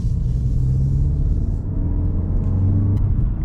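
Deep, steady engine rumble from a Stage 1 EQT-tuned Mk8 VW GTI driving through a city, a continuous low drone with slowly shifting pitch and no speech.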